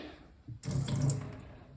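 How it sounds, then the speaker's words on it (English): A faucet turns on after a brief pause, and water runs steadily, splashing onto a conditioned wooden cutting board close by. "So we'll just put some water on the board"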